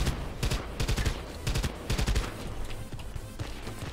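Rapid bursts of XM8AR rifle fire in the Battlefield Play4Free shooter, loud and close, in several quick volleys with short gaps between them and no talking.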